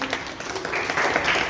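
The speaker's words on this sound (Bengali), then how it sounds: "হাততালি, সকলে হাততালি।" Audience applause at a Vivekananda youth gathering in Dankuni, a short burst of scattered clapping from a crowd, moderately loud, without speech.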